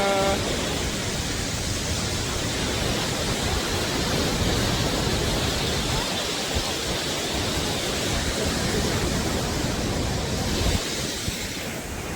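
Rupse waterfall pours in a constant, dense roar, loud and unbroken from start to finish with no voices.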